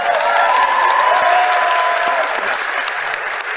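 An audience applauding in a replayed recording, dense steady clapping from a crowd heard loud and continuous throughout with a faint voice in the background.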